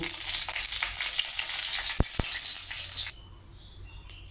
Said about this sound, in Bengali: কড়াইয়ে তেল দিয়ে দিয়েছি ওটার মধ্যে ফোড়ন দিব আমি দুটো শুকনো লঙ্কা দিব